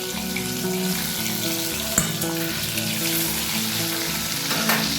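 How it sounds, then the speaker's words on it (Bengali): Fish sizzles and crackles in hot oil just after being flipped in the pan, a close, steady fry throughout, with one sharp knock near the middle and a light clatter near the end. "মাছটার একটা পিঠ ভাজা হয়ে যেতে মাছটাকে আমি উল্টে দিচ্ছি।"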